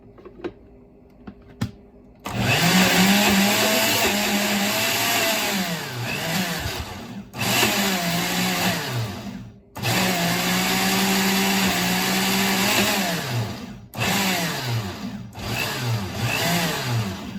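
A blender blending an avocado hair mask whirs loudly in several bursts separated by short pauses, its motor pitch wavering as it blends.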